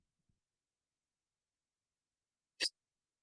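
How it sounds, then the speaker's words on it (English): A single short, sharp hiccup from a person stands alone near the end, preceded by near silence and a faint tiny click early on. "Sorry, I'm trying to get rid of the hiccups."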